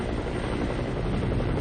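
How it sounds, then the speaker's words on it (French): Red Cross helicopter flying over southern Afghanistan toward Kandahar, a steady close rotor-and-engine drone filling the whole stretch with constant loudness and no talk. "J'espère arriver à Kandahar par le plus court chemin."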